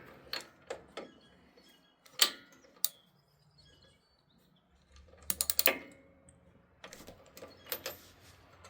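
A 16 mm socket wrench ratchets in short bursts of clicks while loosening an engine spark plug on outdoor power equipment. The clicks are close and intermittent, with pauses and a few louder clanks between them.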